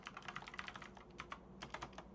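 Quiet, close typing on a computer keyboard, with a steady patter of light key clicks, a brief pause, then another quick run of keystrokes, and no voice present.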